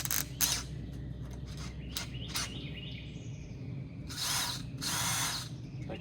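A power drill fitted with an auger bit whirs in several short bursts outdoors near trees, starting and stopping, with birds chirping in the background and no talk.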